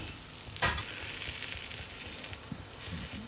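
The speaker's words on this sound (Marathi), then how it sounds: "तशी वरची भाजली गेली पाहिजे आणि ती तुपात खमंग भाजली गेली पाहिजे." Sweet potato tikkis frying in ghee in a wok, a close, continuous sizzle with a short sharp crackle early on and a few soft stirring scrapes.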